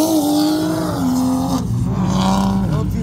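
A BMW M340i with a downpipe and E50 fuel races a manual Mustang GT with cams and ported heads from a 50 mph roll, both engines roaring loud and close as they wind up, then a shift and a lower pitch.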